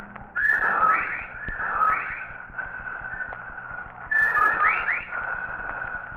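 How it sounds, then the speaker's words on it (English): Whippoorwills whistle as a radio drama sound effect, their rhythmic, repeating warbled calls loud and echoing, rising and falling in waves with a faint low hum beneath and no voices. "of whippoorwills cried loudly and rhythmically, endlessly"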